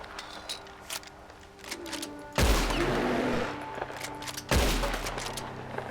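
Gunfire in Red Dead Redemption 2 comes as a couple of scattered shots followed by two loud, booming gunshots, each trailing a long echoing tail across an outdoor setting.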